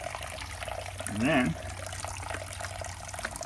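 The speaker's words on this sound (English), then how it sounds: "There's little balls in there, you can see the water coming out." Water trickles steadily from a concrete core drill after the flow is switched on, a soft continuous wash with someone briefly speaking over it.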